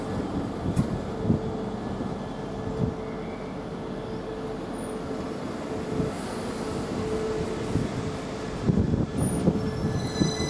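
A train from Leeds rolls into Doncaster railway station, a steady rumble of wheels on track with occasional squeals and clunks as it slows, fairly close and continuous throughout.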